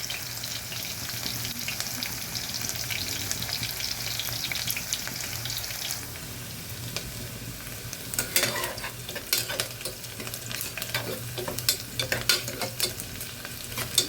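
Aloo beans curry of potatoes and green beans sizzling and frying in a pan, with steady hissing, then bursts of scraping stir strokes and clinks of a spatula against the metal in the later part.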